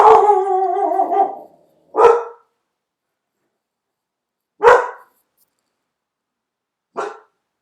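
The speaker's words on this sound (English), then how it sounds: "Sorry, you have to excuse my puppy for barking right now." A puppy barks near and loud: one long drawn-out howling bark, then three short sharp single barks spaced a few seconds apart with silence between.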